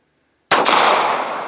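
A single sharp gunshot, likely a .380 ACP pistol fired at a target outdoors, cracks loudly after a moment of silence and then decays into a ringing tail.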